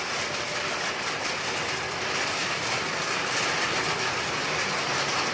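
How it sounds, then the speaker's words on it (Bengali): Rain pours onto the tin roof of a house in a steady, dense drumming hiss that holds evenly for the whole stretch, with no voices. "এই যে টিনের ঘরে বৃষ্টির শব্দ।"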